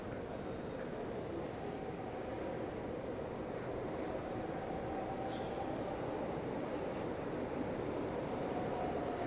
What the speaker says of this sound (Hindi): हर 30 सेकंड बाद मेट्रो आती है।